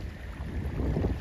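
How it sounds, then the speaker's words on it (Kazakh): Wind blows steadily across open water during a carp fishing outing, rumbling against the microphone with no talk. "Жел тұрып кетті."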